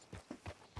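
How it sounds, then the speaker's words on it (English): Horse hooves clip-clopping in Red Dead Online, four quick, evenly spaced steps close by in a brief burst with no talking. "This is my horse, Matilda."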